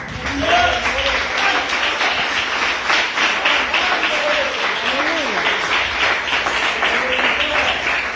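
A church congregation claps in steady, full applause during a worship service, with voices calling out over the clapping throughout.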